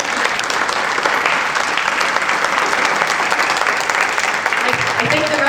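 Audience at a book festival keynote giving sustained, loud applause, a steady dense wash of clapping with some murmuring voices near the end.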